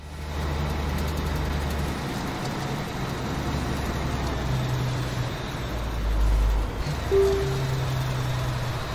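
Steady low drone of a heavy truck engine and cab rumble in the Alaskan Road Truckers simulation game, heard from inside the cabin while rolling downhill, even and moderately loud with slight surges and a brief higher tone near the end.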